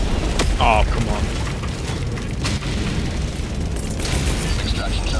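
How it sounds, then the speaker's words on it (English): Orbital barrage explosions in a video game land as repeated heavy booms and bursts, loud and close, mixed with mechanical clatter and brief radio-style voice calls. "Orbital barrage incoming."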